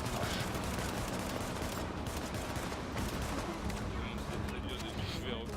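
Pistol gunfire in the video game The Division, dense and continuous through the whole stretch with sustained loud crackling shots, while someone talks over the action throughout.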